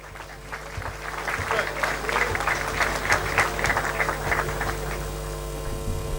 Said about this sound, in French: On applaudit, je vous en prie.